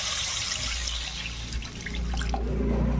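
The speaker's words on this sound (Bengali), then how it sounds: "এখন জল দিয়ে দেবো এর মধ্যে।" Water poured into a pan of fried Maggi instant noodles, a steady close splashing and trickling pour that carries on for about three seconds with a low hiss underneath and no voice.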